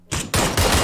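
Gunfire in the PUBG video game: two loud, close bursts of rapid automatic shots that follow each other within a second, with nobody talking.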